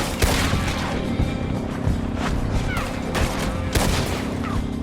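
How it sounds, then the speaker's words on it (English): Dense gunfire in the Red Dead Redemption 2 video game, a steady barrage of overlapping shots and booms over a constant noisy bed, with characters' voices mixed in. "This is a gun."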